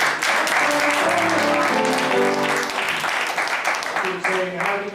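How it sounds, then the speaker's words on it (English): A theatre audience applauds steadily to mark a birthday, the dense clapping running the full length alongside tuneful sound and voices. "Let's give Teresa a nice round of applause."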